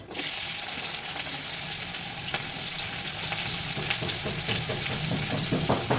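Onions sizzling steadily in hot oil in a wok, a continuous close crackle with small pops and occasional stirring clatter throughout, while fish and dal are prepared alongside.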